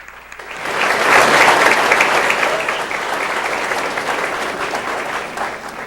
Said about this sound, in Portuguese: Aplaudamos esse Deus.